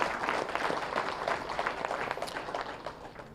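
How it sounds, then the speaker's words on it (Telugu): Clapping from a crowd at a meditation event, loud at first and gradually thinning, with individual claps standing out as the applause fades toward the end. "గట్టిగా చప్పట్లు కొడదాం."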